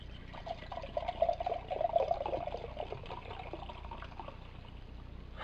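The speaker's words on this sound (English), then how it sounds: "we're going to pour them out" Schwelmer Bernstein beer glugs and trickles from bottles into a glass, a liquid pour that runs for a few seconds and then thins to faint fizz.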